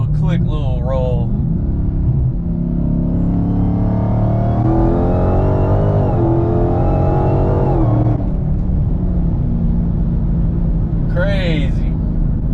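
An 860 whp Dodge Hellcat Charger accelerates hard from a rolling start, its loud engine rising steadily in pitch through the gears with a continuous roar and rumble, while people talk briefly inside the car.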